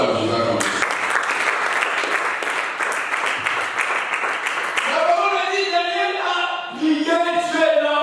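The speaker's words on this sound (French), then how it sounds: "Acclamez." A church congregation claps and applauds loudly during a sermon, steady dense clapping for several seconds that fades into voices and a speaker talking.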